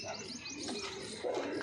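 Punjabi Malwai flying pigeons coo and chirp close by, a steady layered murmur of soft calls with a brief louder flurry near the end, no talk.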